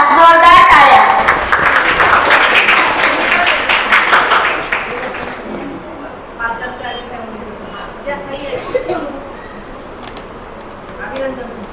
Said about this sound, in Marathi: ईश्वरीसाठी एकदा जोरदार टाळ्या